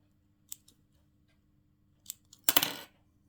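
Scissors trim the fabric of a Taekwondo dobok belt, with a few sharp, close snips spaced apart over near silence, the last one longer and louder.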